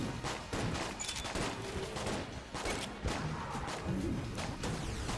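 Weapon gunfire in the video game Enter the Gungeon, rapid volleys of shots and thuds rattling steadily through the clip at moderate loudness, mixed with game music and effects.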